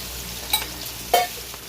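Chopped onion fries in a pan with a soft, steady sizzle, broken by two brief clatters of stirring. The pan stays fairly quiet overall, and no one speaks.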